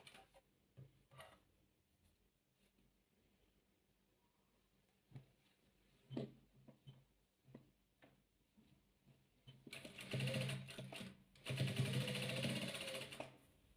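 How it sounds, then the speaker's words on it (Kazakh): A sewing machine stitching triangular patchwork quilt pieces, quiet ticking at first, then two loud steady whirring runs of stitching near the end. "Енді үшінші қабырғасын тұмарын тігеміз."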